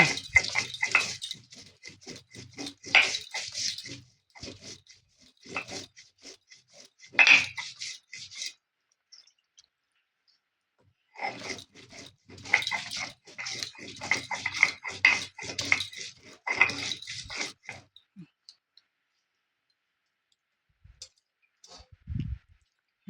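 Cardamom, cloves and coconut powder are ground into a paste for mochar ghonto, a banana-flower dish. Close, gritty scraping and rubbing comes in two bursts with a quiet pause between them, and there is no talking.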